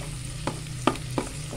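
Food fries in a little cooking oil in a pan for porridge, with a steady sizzle and a few spoon-scrape taps on the pan, close and clear.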